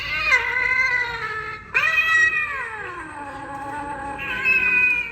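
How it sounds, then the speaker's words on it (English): An electronic Halloween toy cat gives a few drawn-out, wavering meows one after another, close and fairly loud, with no talking. "Let's see what this cat does."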